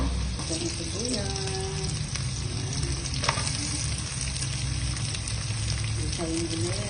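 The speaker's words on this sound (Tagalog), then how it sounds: "Ang luya, hanggang sa maluto siya, mag-golden brown" Ginger fries in oil for tinola with a steady close sizzle and occasional stirring, while faint tonal sounds and a person's voice drift in the background.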